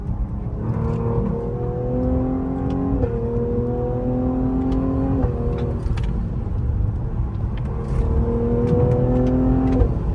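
A Cadillac CT5-V accelerates hard through repeated gear shifts, its engine note climbing in pitch, dropping at each shift, then climbing again, close and loud with no talk.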